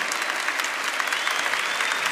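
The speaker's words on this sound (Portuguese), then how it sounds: "Aplauda esse irmão que foi escolhido nesse tempo, nessa geração" A church congregation at a New Year's Eve Catholic service applauds, a dense, even wash of clapping from many people filling the room without pause.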